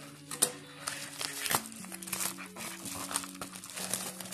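A plastic parcel package of plastic buttons is torn open, giving close crinkling and rustling of plastic wrap in irregular bursts with a few sharper crackles.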